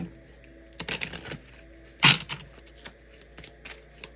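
Tarot cards being shuffled and drawn, several quick papery riffles and flicks close up, with one sharp slap in the middle and quiet handling around it.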